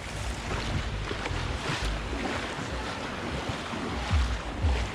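Sea waves roll in at Baga Beach in Goa, a loud, continuous wash of surf with a couple of heavier swells breaking near the end, mixed with wind buffeting the microphone.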